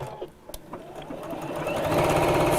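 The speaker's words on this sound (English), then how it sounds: "Fancy foot pedal on my sewing machine." A foot-pedal sewing machine starts up after a few faint clicks and builds into a steady, rapid mechanical whir and stitching rattle that grows louder and keeps running.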